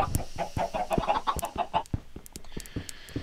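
A flock of chickens clucks in a rapid, choppy run of calls, dense and fairly close at first, then thinning into scattered squawks as the birds die.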